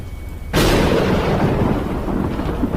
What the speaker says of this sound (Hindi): बारिश तो काफी तेज हो रही है और बिजली भी कड़क रही है